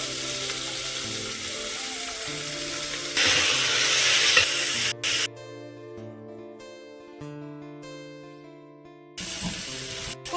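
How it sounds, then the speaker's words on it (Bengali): Vegetables frying in a pan for a lentil tadka, a steady close sizzle with stirring, plus stretches of running water and rattling kitchen sounds, with no voices. "আমি সবজিগুলো দিয়ে দিলাম, একটু ভাজা ভাজা করবো"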